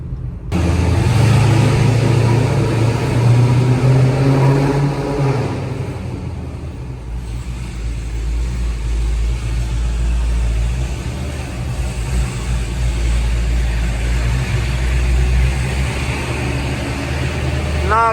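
A Dodge Hellcat Redeye drives loudly from inside the cabin, with a deep engine roar that builds at first, then settles into a steady low drone with road noise.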